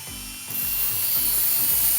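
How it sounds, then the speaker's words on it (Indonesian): A mini grinder whines into a plastic part of a water gel blaster: a faint tonal hum for a moment, then a bright, steady grinding hiss with repeated low scraping strokes. "di sini saya akan siapkan untuk gerinda mini. Kemudian saya akan gerinda langsung saja."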